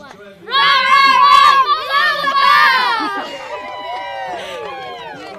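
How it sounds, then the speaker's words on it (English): A youth team at a state championships event bursts into a loud group cheer of many children's voices, a few seconds of shouting that trails into excited chatter. "A team cheer."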